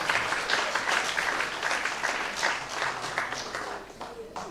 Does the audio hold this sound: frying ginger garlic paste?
no